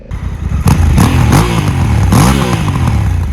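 A Honda Africa Twin motorcycle fitted with a full exhaust system, started and revved up close, a loud sudden roar with two rising throttle blips over a rough, clattering idle.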